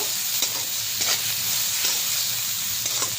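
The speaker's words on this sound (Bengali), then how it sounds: "হলুদ দিয়ে দিলাম, নুন দিয়ে দিলাম। এবার একটু নাড়াচাড়া করে নেব।" Eggplant fries in a pan with turmeric and salt while being stirred, a loud close sizzle punctuated by several spaced scraping strokes of the spatula.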